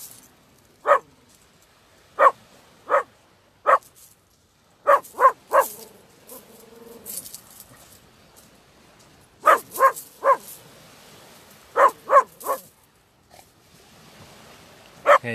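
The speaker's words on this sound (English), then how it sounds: "you'd have to excuse me if you hear my dog bark, because I've actually got my, my uh, little Jack Russell with me today" A small Jack Russell terrier barks sharply in quick bursts of two or three, close and loud, with quiet gaps and soft rustling in between.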